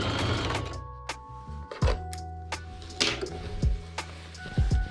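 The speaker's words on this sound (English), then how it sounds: "then sew them onto each original out seam of the pants" A sewing machine stitches denim triangle extensions onto the outseams of flared jeans, in short bursts of whirring with thumps and pauses between them, close and fairly quiet.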